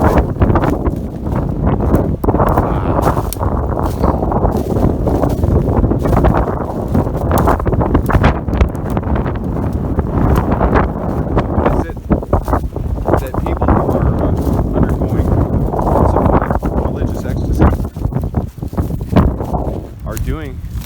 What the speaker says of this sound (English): Wind's really brutal.